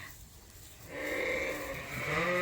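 A sheep on a farm bleats in a long, wavering, nasal call that rises after a quiet start and carries on steadily, fairly close, with no speech.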